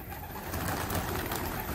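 A black-winged postacı pigeon coos softly and continuously under a loud, broadband outdoor wash, nearby but partly masked.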